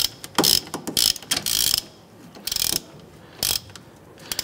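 Ratchet tightening the three wheel hub bolts on a 2006-2013 Chevrolet Impala during a wheel bearing and hub replacement, heard as several short bursts of rapid clicking separated by pauses, close and alone.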